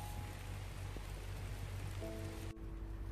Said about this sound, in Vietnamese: Đang hái rau mà bị trời mưa rồi.